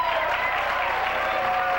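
Game show studio audience applauding steadily, a dense, even wash of clapping filling the room with no talk over it.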